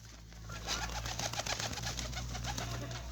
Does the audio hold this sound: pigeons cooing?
yes